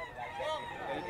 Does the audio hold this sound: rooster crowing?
yes